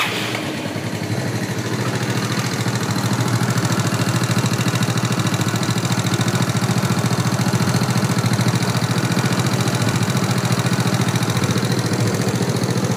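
A Yamaha Mio scooter with white exhaust smoke and fast oil consumption starts and then idles roughly. The close, loud, steady engine hum runs evenly for the full length with no talking.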